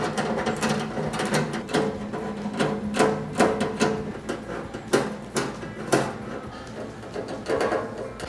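Screwdriver work removing Phillips head screws from the back panel of a Vevor DZ320 chamber vacuum sealer, a string of close, sharp ratcheting clicks and clacks of metal, fairly loud and steady throughout.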